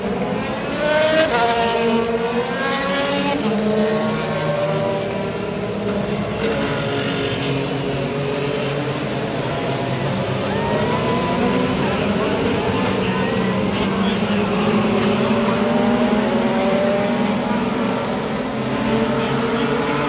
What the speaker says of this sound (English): It's the cars and driving stars of the NTT Indy Car Series.